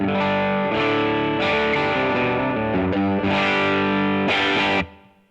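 Electric guitar through a BOSS GT-1000 amp model on the edge of breakup, slightly gritty chords ringing out steadily, then cutting off near the end.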